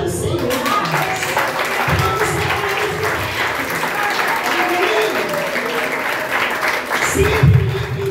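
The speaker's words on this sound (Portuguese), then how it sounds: "Aplauda o Senhor." Sustained applause from a church congregation fills the space during a service, steady and enthusiastic, with a swell of louder clapping near the end.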